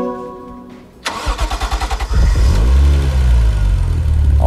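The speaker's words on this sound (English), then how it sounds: "There's no better sound than the first time you turn over a brand new car" A Lexus GS300 engine starts in the Gran Turismo 6 racing game: a starter motor cranks in a quick even rhythm for about a second, then the engine catches and settles into a loud, steady idle with no talking.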